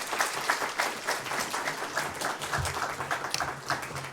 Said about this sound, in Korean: 우리 주일이지만 박수로 좀 여러분 환영하시기를 바랍니다